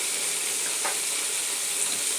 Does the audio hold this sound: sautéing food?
yes